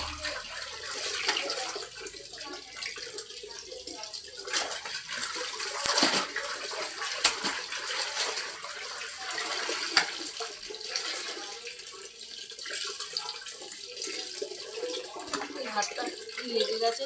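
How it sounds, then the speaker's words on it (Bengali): Tap water runs steadily for washing clothes by hand, a continuous broadband splashing hiss that fills the whole stretch with occasional sharper splashes and knocks. "কলের জল শুরু হয়ে গেছে"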